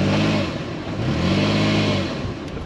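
A 4WD with raised tyre pressures revs hard on beach sand, its engine climbing and falling in loud, close, sustained roars as the wheels spin, then easing off near the end.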